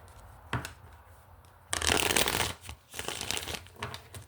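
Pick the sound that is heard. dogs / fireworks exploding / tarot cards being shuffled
tarot cards being shuffled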